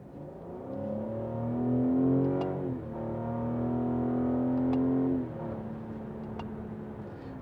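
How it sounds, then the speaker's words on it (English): A 2020 Cadillac CT5 engine, in manual mode, revs up in a rising whine, dips briefly at a downshift, then pulls steadily higher before easing off, heard from inside the car. "Let's put it into manual mode, and I have it in, here we go."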